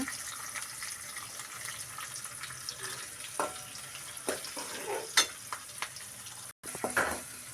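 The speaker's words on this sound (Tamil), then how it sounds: "நல்லா வதக்கி விட்டுருங்க." Curry leaves, small shallots and dried red chillies sautéing in a pan for a Tirunelveli-style tamarind broth, a soft steady sizzle with occasional stirring scrapes and clinks, fairly quiet.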